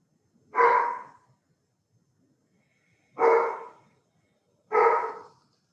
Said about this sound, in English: so you don't have to listen to my dog bark